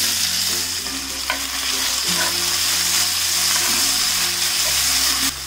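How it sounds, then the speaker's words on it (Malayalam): Crushed spices sautéing in hot coconut oil in a cast iron pan make a loud, steady sizzle, with stirring scrapes and a low background hum. "എണ്ണ ചൂടാകുമ്പോഴേക്ക് നമ്മൾ ഈ ചതച്ച് വെച്ചിരിക്കുന്നത് ഇതിലേക്ക് ഇട്ടിട്ട് വഴറ്റി കൊടുക്കാം"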